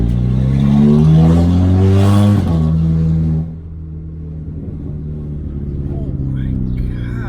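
Car engine with a newly installed downpipe exhaust revving hard, rising and falling through loud throaty pulls before settling to a deep rumbling idle, with a person talking over it.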